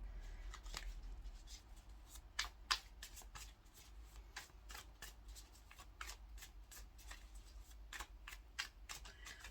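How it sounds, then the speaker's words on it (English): A tarot deck being shuffled by hand, a close, quiet run of quick papery riffles and slaps repeating steadily, with a few sharper card snaps standing out and no talking. "We might just shuffle again and see what comes up."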